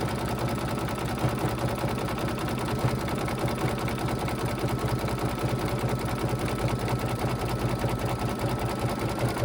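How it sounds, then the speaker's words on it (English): An embroidery machine sews a satin stitch onto a towel, a fast, even, mechanical chatter of needle strokes that runs steadily and close throughout. "I like that they lay down a little zigzag first before they do the satin stitch over it."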